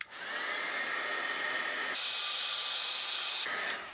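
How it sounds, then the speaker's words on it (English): A heat gun blows on embossing powder in a papercraft resist technique, a close, steady whooshing roar that shifts pitch twice as the tool moves, ending abruptly. "And then we're going to hit it with our heat gun."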